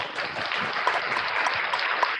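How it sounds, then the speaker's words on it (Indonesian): Applause welcoming a speaker at a school webinar, a steady wash of clapping at moderate level that continues without pause. "kita akan sambut dengan tepuk tangan yang sangat meriah"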